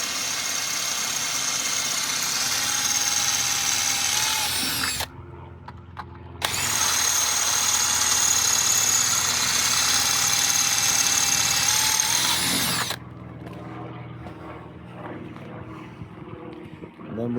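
A power drill bores a 5.5 mm hole in soft metal while a wing is fitted to an R56 Mini Cooper S. It whines loudly and steadily in two long bursts, with a brief pause between them and quieter handling after.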